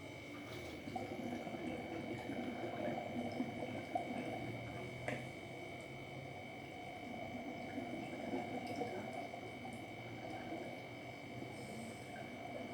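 Water and bubbles from a diver underwater, heard as a faint, muffled wash with gurgling bubble bursts and a steady high tone running throughout.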